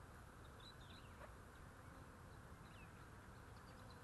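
A honey bee swarm during capture gives a dense, even buzz of many insects, quiet and steady throughout, with faint high chirps from birds in the background and no talking.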